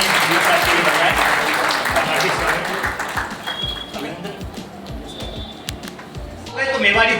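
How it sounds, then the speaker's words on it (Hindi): Loud, sustained applause from an audience at a district teachers' conference in Udaipur, Rajasthan, dense clapping that gradually thins out before swelling again near the end, with a voice speaking over it. "जोरदार तालियां हमारे आदरणीय साहब के लिए बजाएं"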